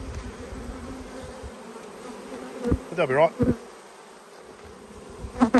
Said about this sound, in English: They've probably got a few more bees than they need in this box.